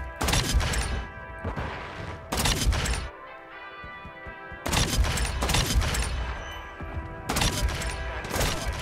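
Lockwood MK2 carbine fire in Modern Warfare 2, loud booming shots in rapid clustered bursts with echoing crashes and a brief lull between volleys, no talking.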